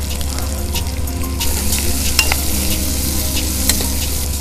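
A cup of onions and a pinch of turmeric fry in a pan for a raw mango and brinjal curry, a loud, dense sizzle with occasional ticks and stirring scrapes, close and without talking.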